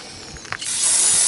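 Cleaner sprayed onto the carburetor of a Suzuki LT500R Quadzilla ATV on a workbench, a short click followed by a rising, steady close hiss of spray.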